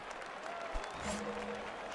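The virtual baseball stadium crowd in MLB The Show murmurs at the bottom of the ninth, a steady broad din of cheering and applause with a brief low thump, and faint voices underneath.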